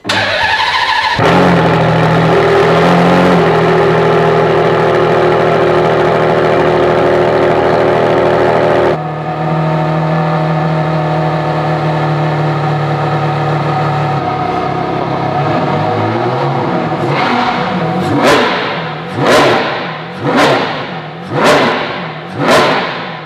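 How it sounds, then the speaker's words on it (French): A naturally aspirated V12 engine fires up and idles loudly, then revs in a series of sharp, rising bursts that climb and fall back repeatedly. "Le plaisir du V12 atmosphérique."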